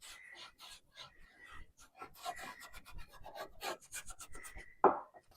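A cloth rubs aging wax onto a piece of thrift store furniture in quick, close scrubbing strokes with brief pauses, ending on a sharper thump.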